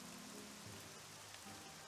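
Rain falls steadily in the Nancy Drew: Legend of the Crystal Skull game, a soft continuous patter on surfaces with a faint low hum beneath, quiet and unbroken, with no voices.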